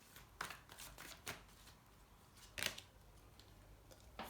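Tarot cards are shuffled and drawn by hand, with soft riffling swishes and a few sharper flicks and snaps at irregular intervals, close and fairly quiet.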